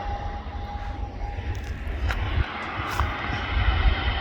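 Aircraft EI-FAT arrives at an airport viewing park as a continuous low engine rumble and roar in the distance, holding steady and swelling slightly toward the end, with no voices.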